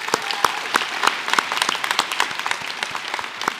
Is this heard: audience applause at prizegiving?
yes